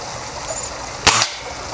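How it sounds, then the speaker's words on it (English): A Gamo pellet gun firing .177 lead pellets at 1000 feet per second in a backyard gives one loud, sharp crack with a short bright tail, standing alone against a quiet outdoor background. "Here is a Gammo pellet gun that shoots lead 177 pellets at 1000 feet per second."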